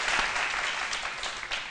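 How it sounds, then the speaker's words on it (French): Studio audience clapping on a French-language midday television show, a dense, steady burst of applause filling the short moment at even loudness. "Ça s'applaudit."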